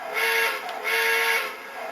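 Toy train set horn giving two short tooting blasts close by, a steady reedy tone with a brief gap between, alone without talk.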